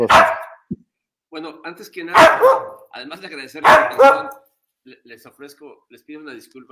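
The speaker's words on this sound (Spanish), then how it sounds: "por el ladrido de fondo," A dog barks several times in the background, loud and close, while someone speaks Spanish over and between the barks.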